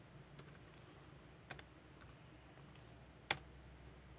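Quiet, sparse keystrokes on a computer keyboard as a date is typed into an Excel spreadsheet: a handful of light, separate clicks spaced irregularly, one slightly sharper tap near the end, all faint and close.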